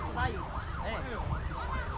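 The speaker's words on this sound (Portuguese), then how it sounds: "Sirene ligada, muito fogo." Wailing emergency vehicle siren at a youth detention riot at Funase in Caruaru, its repeated rising-and-falling sweeps moderately loud and continuous over low background noise.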